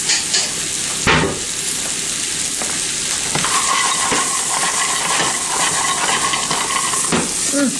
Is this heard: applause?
no